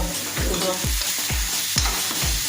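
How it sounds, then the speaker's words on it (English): Garam masala for a chicken biryani gravy stirred and fried in a pan, with a steady broadband sizzle and repeated scraping strokes of a spoon about every half second, close and fairly loud with no talking. "Now add garam masala in a pan and mix gently for 3 to 4 minutes."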